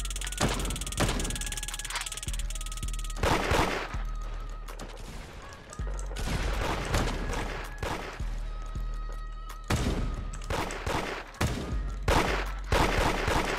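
Rapid gunfire in the Roblox game Da Hood during a raid, loud close bursts of shots in clusters with short gaps, repeating throughout.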